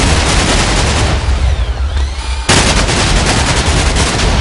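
A rapid gatling gun in the Minecraft Jurassicraft mod, a video game, fires loud continuous bursts that dominate the mix, break off briefly, then resume just as dense.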